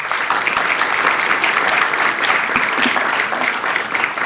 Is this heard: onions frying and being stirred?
no